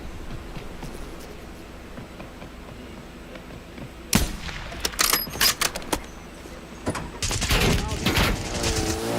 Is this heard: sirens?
no